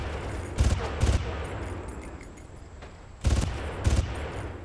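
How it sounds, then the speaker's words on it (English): Gunfire in the video game Far Cry: two pairs of sharp, loud shots, one pair near the start and another about two and a half seconds later, over a low ambient rumble. "Gunfire."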